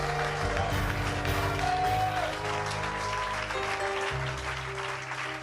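A church congregation applauds and cheers to acclaim Jesus during a French-language sermon, with loud sustained clapping mixed with voices and music throughout.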